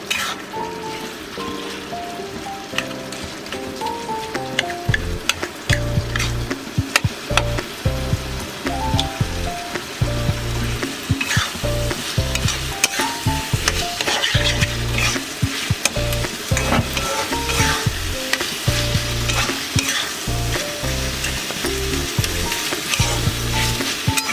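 Jackfruit mashed into potato masala sizzles loudly in a pan over a high gas flame, with a spatula scraping and stirring in a busy, continuous rhythm and no voices.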